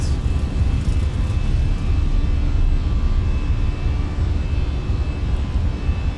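An Airbus airliner takes off from Dublin in Microsoft Flight Simulator, with a loud, steady engine roar and a deep rumble holding throughout, heard alone.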